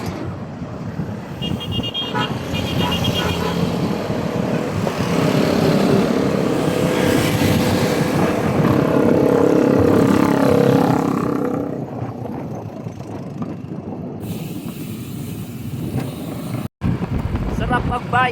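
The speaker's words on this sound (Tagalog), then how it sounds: "Ang daming truck. Sobra." Heavy trucks and traffic roar past on a road in Angat, Bulacan, heard from a bicycle, with a rumbling engine swell that peaks midway and then recedes, followed by quieter road noise.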